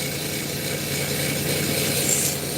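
An abrasive grinding wheel works a piece of fire obsidian stone, giving a steady, close, unbroken rasping grind with no talk over it.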